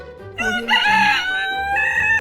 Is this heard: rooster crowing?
yes